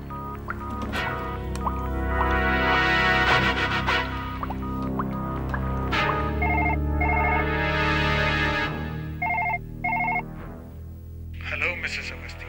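Outgoing telephone call ringing on the line, repeated paired electronic ring tones sounding over tense dramatic background music, clear and moderately loud.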